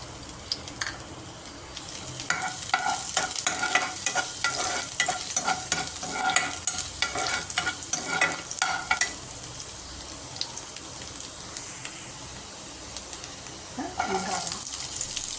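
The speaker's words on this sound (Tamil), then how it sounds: "எண்ணெய் ஊற்றி காஞ்சதும் பொடிசாக அரிஞ்சு வச்சுருக்கோம்ல இஞ்சி பூண்டு அதை போடணும்." Finely chopped ginger and garlic fry in hot oil in a pan, crackling and sizzling steadily as a spatula scrapes and stirs in bursts, with a voice faintly heard near the end.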